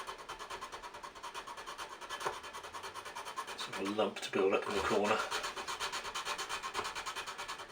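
Sanding stick rubbing against wood into the corner of a V joint, a steady rhythmic scraping rasp running throughout at close range, with someone talking over it.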